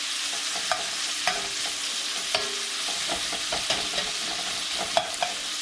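Bacon fries in a small cast iron skillet over just-below-medium heat, a steady close sizzle broken by occasional sharp pops and light scrapes.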